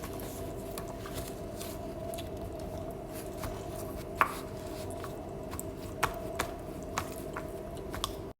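A knife chops ingredients for a Turkish dish on a cutting board, giving several sharp, sparse taps spread across the stretch over a quiet, steady background hum.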